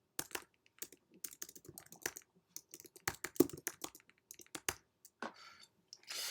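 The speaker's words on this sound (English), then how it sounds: "I'm just typing this thing to show you how to create." Quick, irregular clatter of keys on a computer keyboard, close and fairly clear, with brief pauses between bursts and no one talking.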